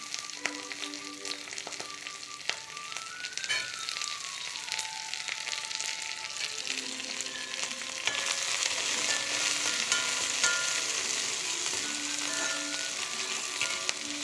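Chopped shallots and green chillies fry in oil in a pan, a steady close sizzle that grows busier and louder partway through, with faint background music tones.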